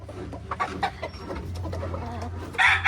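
Backyard chickens cluck repeatedly nearby in short, uneven bursts, with a louder squawk near the end.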